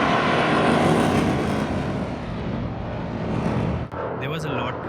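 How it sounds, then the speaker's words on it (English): Fighter jets pass over a small, traffic-heavy city in Cyprus, a broad steady roar filling the sky for several seconds before easing slightly, with a brief break near the end as a voice speaks. "look at the planes flying by here. They're fighter jets."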